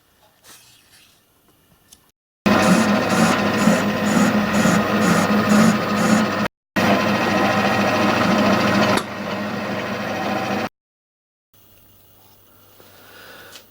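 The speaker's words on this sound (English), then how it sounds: "So I'm going to set that up now at lathe and face everything up square." A Harrison lathe fitted with a 4-jaw chuck faces a metal block for engine cylinders, producing loud sustained machining noise with a rhythmic pulsing chatter that cuts out and resumes, followed by quieter workshop sounds.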